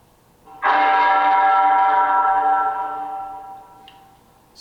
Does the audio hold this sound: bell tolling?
yes